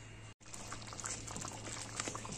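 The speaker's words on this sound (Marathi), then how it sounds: "हे असं खदखदून शिजत आलं" A pot of besan and methi gravy boils on the stove, a continuous low bubbling with small pops, quiet and close, broken by one brief gap near the start.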